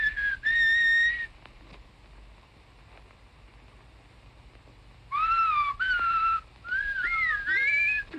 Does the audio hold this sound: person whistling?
yes